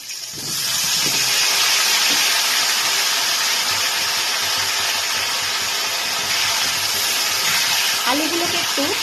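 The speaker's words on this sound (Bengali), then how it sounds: "এবার আমি এই তেলের মধ্যেই আলুগুলোকে ভেজে নেব" Potatoes frying in the same hot oil used for fish heads, a loud, steady sizzling hiss that swells quickly and holds, with faint kitchen clatter near the end.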